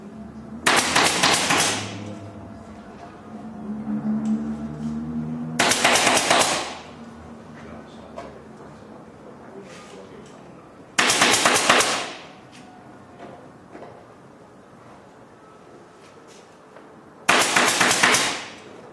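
A staple gun pins bedcloth onto a pool snooker table in four loud, rapid bursts of sharp clacks spaced several seconds apart, with quieter rustling and handling of the cloth between bursts.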